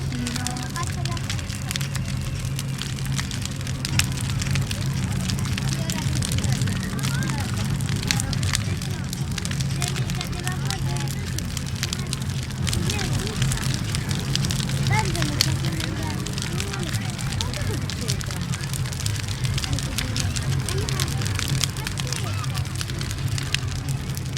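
A large bonfire burns at an outdoor Befana festival in Abano Terme, Italy, with steady dense crackling and roaring under a continuous crowd murmur and a voice reciting over it.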